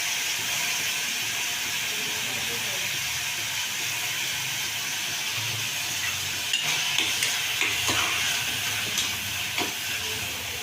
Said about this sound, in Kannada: ಇದೆಲ್ಲ ಫ್ರೈ ಆಗೋವರೆಗೂ ಸ್ವಲ್ಪ ತಿರುಗಿಸ್ಕೊಳ್ಳಿ